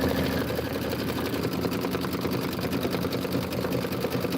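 An embroidery sewing machine stitching out a Kimberbell Autumn Acres apple tree design runs in a steady, fast, even needle rhythm, close and continuous with no talk.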